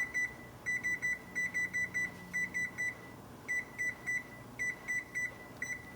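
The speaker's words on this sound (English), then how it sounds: "So I'm gonna set a timer." Rapid electronic beeps in quick bursts of several, repeating in a steady pattern, clear and close against a quiet background.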